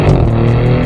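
A Maserati GranTurismo Trofeo engine gives a brief, close, steady low rumble, a short burst of engine note with no talk.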